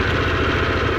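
A Harley-Davidson Pan America motorcycle engine cranks and runs with a dense, steady, loud mechanical drone and rumble close by, with no voices over it.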